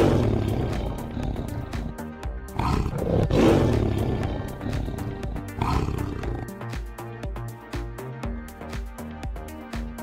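A lion roars loudly in a cartoonish animal crossing scene with a cow, panda and elephant, sounding as repeated deep bellowing bursts over a busy, music-like background with no talk.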